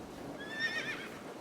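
A horse neighs in the video game AI: The Somnium Files, a brief mid-pitched whinny with clip-clop hoofbeats, at moderate volume with no talk.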